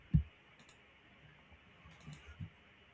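A single faint mouse click pressing a generate button on a computer, followed by a couple of softer clicks in a quiet room.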